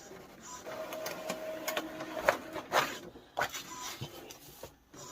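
An Epson ET-2803 inkjet printer runs while drawing ink into the machine, giving a steady low mechanical whir with a faint tone and a few sharper clicks and clatters, close by with no talk.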